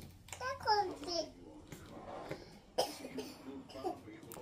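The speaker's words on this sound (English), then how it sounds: "only my coughs" A child coughs a few times, short harsh bursts spread through the clip, with bits of quiet child vocalizing in between.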